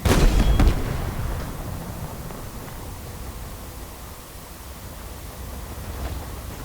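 A Wraith vehicle is destroyed by an explosion in Halo Infinite, a sharp blast at the opening that fades into a long, low, noisy rumble and hiss.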